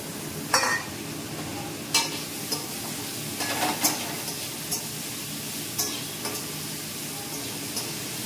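Potato and pumpkin frying in a pan, a soft steady sizzle with occasional sharp clacks of a spatula against the pan, close and with no talking.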